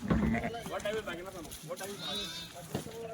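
Gujarati sheep bleating among a flock, several wavering bleats overlapping, close and moderately loud, with people talking alongside.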